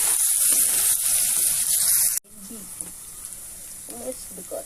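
Onions and tomatoes frying in a pan for a Pakistani potato dish. A loud, bright sizzle fills the first two seconds, then cuts to a quieter hiss with faint clinks and a voice talking.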